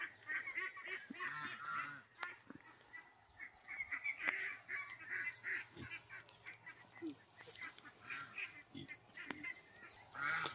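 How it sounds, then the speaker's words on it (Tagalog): Ducks honking and quacking in a farm pen, a busy mix of overlapping calls at moderate distance, with occasional sharp knocks and faint background voices. "Ito po yung kulungan ng mga bibi."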